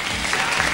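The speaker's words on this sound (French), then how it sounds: "On peut l'applaudir, Elsa." Studio audience applause on a French television show, a brief steady wash of clapping filling the moment, dense and even throughout with no voices rising above it.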